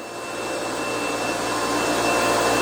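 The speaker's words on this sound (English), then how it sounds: "Vacuum table works." A vacuum table's suction motor drones steadily with a high whine, growing slightly louder over a couple of seconds, close and unbroken.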